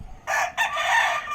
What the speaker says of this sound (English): que es un gallo de 10 peleas.